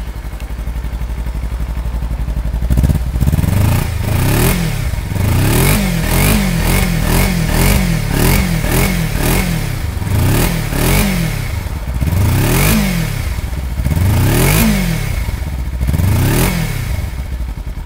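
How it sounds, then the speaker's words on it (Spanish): A 2023 Kawasaki Versys-X 300 ABS motorcycle engine idles, then revs repeatedly in a steady series of throaty rises and falls from the exhaust, loud and close, with no talking. "Ahí están viendo lo que es el exhausto de la motocicleta."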